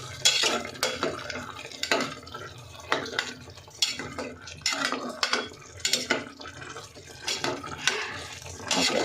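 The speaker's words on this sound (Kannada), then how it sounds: "ಅದಾಗೋವರೆಗೂ ಈ ರೀತಿ ಫ್ರೈ ಮಾಡೋಣ ಅಷ್ಟೆ" Tomato puree being fried and stirred in a pan while cooking mushroom biryani, a spoon repeatedly scraping and clinking against the metal in steady bursts, with a soft background sizzle and no talking.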